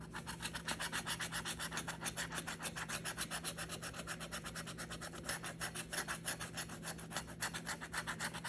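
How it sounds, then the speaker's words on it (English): A coin or edge scratches the coating off Gold Rush lottery scratch-off tickets in a fast, steady run of close, rhythmic rasping strokes that continues without pause, with no talk. "Are you scratching tickets today?"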